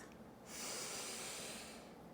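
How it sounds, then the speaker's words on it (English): One slow deep inhale through the nose, close and soft and breathy, swelling after a brief pause and holding for over a second before easing off, with no talking during it. "Now take another deep breath."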